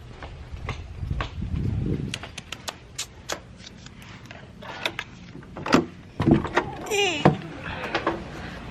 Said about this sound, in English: The door is like really hard to push open.